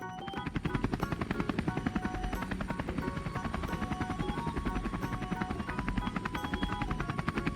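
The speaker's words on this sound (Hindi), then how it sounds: "अरे वाह, ये है मेरा प्यारा हेलीकॉप्टर। चलो इसे उड़ाते हैं।" A toy helicopter flies with its rotor chopping in a fast, even, pulsing buzz that stays close and steady from start to finish.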